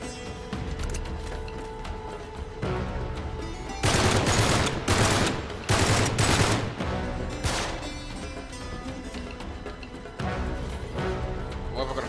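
Gunfire in the video game Uncharted 3 crackles in repeated bursts, loudest in a dense volley mid-way, over a continuous game soundtrack bed with faint voices.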